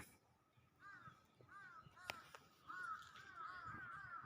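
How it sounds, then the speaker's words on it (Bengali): Crows in a tree outside a pigeon farm give repeated harsh caws, scattered at first and then in a denser run, moderately distant and without speech. "দেখেন গাছে কি পরিমাণে কাকে ডাকাডাকি করতেছে"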